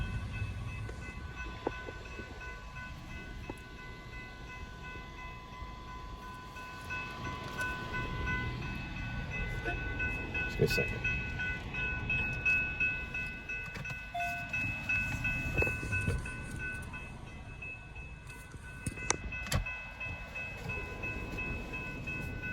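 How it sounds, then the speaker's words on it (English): A train rumbles steadily past at a distance, with wheel clatter, faint metallic squeals and a brief spoken phrase partway through. "It's only a train or two."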